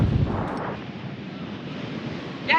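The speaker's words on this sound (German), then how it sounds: "es ist immer noch windig" Strong wind buffets the microphone on a harbour pier on Texel, a continuous rumbling roar with gusts, close and loud, no clear speech.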